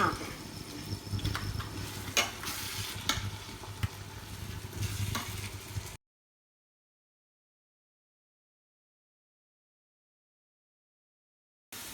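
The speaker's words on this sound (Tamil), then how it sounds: "நல்ல வெங்காயம் நல்லா வதங்கிடுச்சு எண்ணெய் ஊஸ் ஆகுது" Sliced onions fry in hot oil for chicken dum biryani, giving a steady close sizzle with stirring scrapes for about six seconds before the sound cuts to silence.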